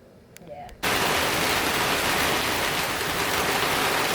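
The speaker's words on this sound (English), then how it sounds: "It's got severe thunderstorms here and a rain that will wash." Heavy rain during a severe thunderstorm starts abruptly after a brief quiet moment, then pours as a steady, loud, broadband hiss to the end.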